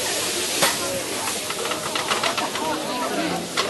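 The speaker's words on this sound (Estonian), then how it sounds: "Nüüd põles alkohol ära." Alcohol poured onto a very hot pan flares and burns off, a continuous loud hissing, steamy sizzle with brief crackling bursts, heard close up in a kitchen.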